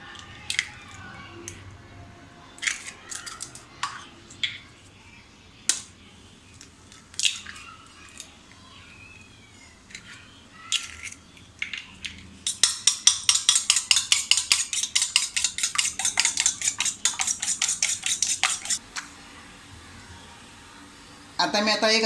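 Two eggs beaten in a bowl with a fork or whisk for Parsi-style chicken cutlets, giving a rapid, steady run of close clinking taps against the bowl after some scattered kitchen clatter.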